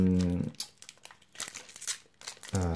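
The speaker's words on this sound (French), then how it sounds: "Je déchire le booster." A Pokémon booster pack torn open by hand, a close run of crinkling foil and ripping bursts lasting about two seconds, with a voice briefly at the start and end.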